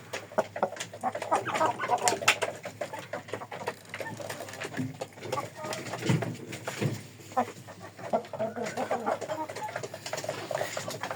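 Chickens and roosters cluck and squawk in a busy, overlapping chorus, close by and continuous, with scattered sharp calls and a few faint background voices.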